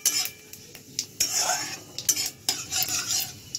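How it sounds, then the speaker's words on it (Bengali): Dried red chillies and cumin tempering in hot oil in a wok, with quick bursts of sizzling and the scrape and clatter of a metal spoon stirring, close and fairly quiet. "তো দেখো, কড়াইয়ে তেলও দেওয়া হয়ে গেছে। তো চলো শিস পালংটা আগে বসিয়ে দিই। এই যে দেখো, শুকনো লঙ্কা জিরিয়ে দিয়ে দিলাম ফোড়নে"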